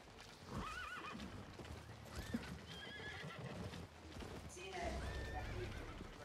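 A horse ridden in a medieval battle video game whinnies and neighs repeatedly over clip-clopping hooves and battle noise, while a voice talks in the background.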